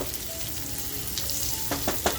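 Eggs for an egg korma sizzle and crackle steadily in a hot pan after a splash of water, close and moderately loud, with a few sharper pops near the end and no talk.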